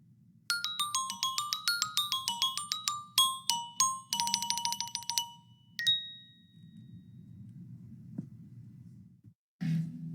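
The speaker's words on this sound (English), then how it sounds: "And on xylophone, our mallet skills will translate" A xylophone struck with mallets plays bright, ringing notes in a quick stepping pattern, then a fast run and one longer sustained tone, alone over a faint background hum.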